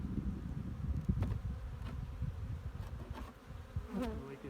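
Honey bees buzz loudly and close by at an open hive during a spring inspection and cleaning, a dense continuous drone mixed with soft knocks and scraping of frames.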